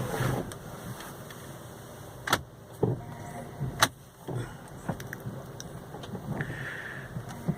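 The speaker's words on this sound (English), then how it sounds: "I'm just parking the car" A taxi car being parked, the engine running low and steady while sharp mechanical clunks and clicks, like gear shifts, doors or a brake, punctuate the middle, ending with a soft whirring hum.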